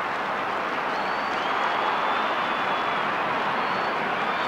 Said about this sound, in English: the Footscray supporters are still here cheering madly for their side